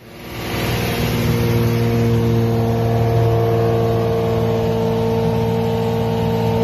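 A Lamborghini V12 engine from a Murcielago runs steadily after starting up, a smooth sustained multi-cylinder drone with strong harmonic tones, close and loud, idling evenly without revving.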